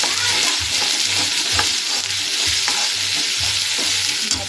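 Spices, turmeric and mutton masala sizzle steadily in hot oil in a pan, with a continuous close hiss and regular scraping pulses from stirring, roughly twice per second throughout.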